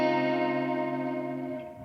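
A guitar tone shaped by a Boss RV-5 reverb pedal, sustained and shimmering with a chorus-like warble, ringing alone for under two seconds and slowly fading.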